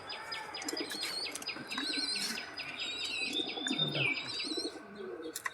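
Pigeons coo and chirp close by in a soft, repeated chorus, with occasional brief wing flutters and no people speaking.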